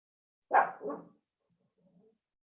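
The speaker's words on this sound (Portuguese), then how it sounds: "Se meu cachorro calar a boca e ficar quietinho." A pet dog indoors gives two quick, fairly close barks, followed by a faint soft whimper or grumble.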